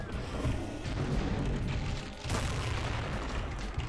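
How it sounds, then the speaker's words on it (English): Revenant firing a minigun in Doom, heard as a dense, loud, continuous roar of rapid gunfire and booming blasts that keeps going almost without a break, with a short dip partway through before the barrage resumes. "Just a Revenant with a minigun."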